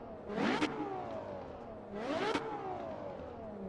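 Two rising engine revs from the racing game Assetto Corsa Evo, each climbing in pitch and cutting off sharply, with a steady engine drone in between.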